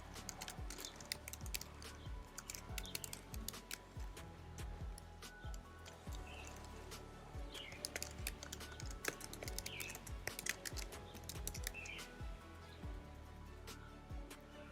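Steady, fast typing on a computer keyboard while entering a JavaScript message in a script tag: a continuous patter of small clicks, quiet and close, running for the whole stretch without speech.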